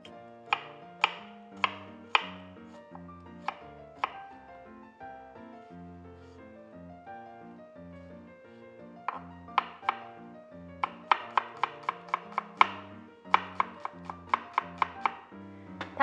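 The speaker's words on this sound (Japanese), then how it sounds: "まずニンニクをみじん切りにしましょう。" Garlic minced with a knife on a cutting board for hashed beef rice, heard as rapid bursts of sharp, close chopping taps with a pause in the middle, a steady musical backing running underneath.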